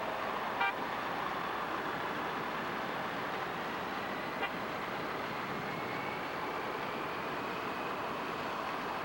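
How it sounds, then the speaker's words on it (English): A Fiat car passes during a Tour de France stage, heard as a steady rush of engine and road noise that holds for about nine seconds, with a brief horn-like toot near the start and no voices. "One of the Fiat cars going through."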